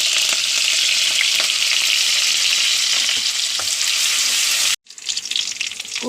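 Sliced onion and curry leaves hit hot oil in a pan, a loud, close, continuous sizzle with crackling that cuts out abruptly for a moment and then resumes slightly rougher, with no talking.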